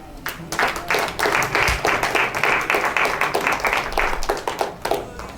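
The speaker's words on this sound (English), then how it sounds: "This is a good place for you to clap your hands." A church congregation claps hands in a lively, uneven rhythm, with distinct sharp claps repeating across several seconds over a murmur of voices.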